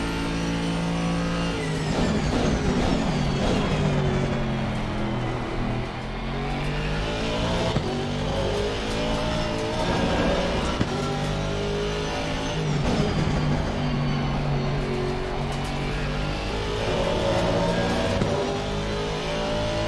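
Race car engines roar and rev continuously in a racing video game, with rising and falling engine pitch through gear changes and occasional tire squeal, loud and steady throughout with no talking.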